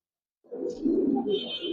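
Pigeons coo close by at a home loft holding Giribaz and coloured fancy pigeons, a steady low rolling murmur that begins after a short silence and keeps going, with a brief higher note near the end.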